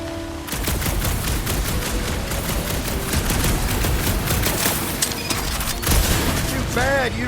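Rapid gunfire from the video game Guardians of the Galaxy, loud dense bursts of shots and blasts crackling almost continuously, with brief electronic whooshes near the end and no talk.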